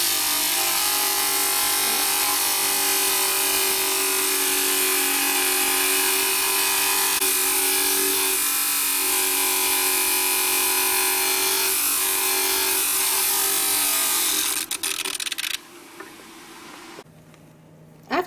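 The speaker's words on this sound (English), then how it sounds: "this base needs a bit of trimming before I begin the mounting" A dental model trimmer grinding the base of a dental cast, giving a steady loud motorized whir with a grinding edge that runs for about fifteen seconds before stopping, with no talking.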